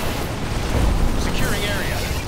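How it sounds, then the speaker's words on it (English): A rumbling Tiberium explosion in Command and Conquer 3: Tiberium Wars booms through heavy battle noise, deep and loud, with a voice briefly audible over the din. "Tiberium explosion detected."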